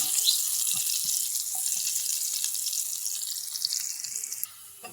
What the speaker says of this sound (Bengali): এই যে আমি শাকটা তেলে দেবো, সেই কারণে এখানে ডাল পেঁয়াজ আর রসুন দিয়ে নিচ্ছি